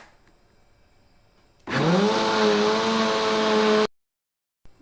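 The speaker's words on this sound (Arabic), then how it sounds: "هنضرب بقى الخليط ده كله كويس كده في الخلاط" A kitchen blender whirs up to full speed for about two seconds, loud and steady, while mixing chocolate and a pinch of salt for homemade Nutella, then cuts off abruptly into silence.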